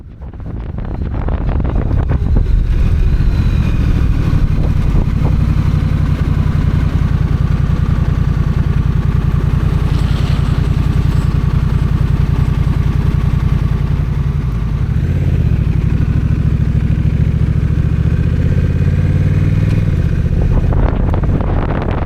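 A Honda Rebel 1100 motorcycle runs steadily under a loud, constant wind rush while riding, its engine drone dipping and shifting as the bike slows toward a stop, then carrying on.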